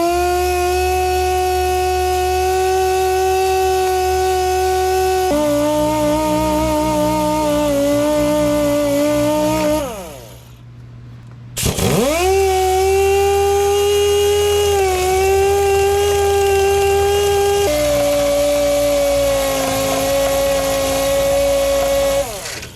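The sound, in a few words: sanding brake rotor with sandpaper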